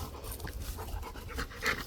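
A big dog pants steadily on a shaded hiking trail, quick soft breaths repeating close by for a couple of seconds, with no voices over it.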